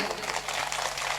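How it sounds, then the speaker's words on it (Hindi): A stage audience at a Hindi love-song programme gives a steady, dense wash of applause, a continuous crackle of many hands with no pauses. "बजाइए जोरदार तालियां बजाइए"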